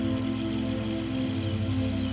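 Steady, soft rainfall patters continuously throughout a German guided relaxation meditation, with a low, gentle musical drone beneath it and no speech.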